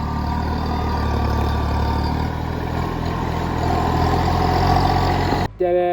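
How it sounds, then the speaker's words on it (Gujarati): A small farm tractor's engine runs steadily nearby with a continuous low droning chug, loud and unbroken until a brief cut near the end, where a faint tonal sound appears. "તો આપણે અત્યારે ટ્રેક્ટર હાંકવાનું ચાલુ કર્યું છે"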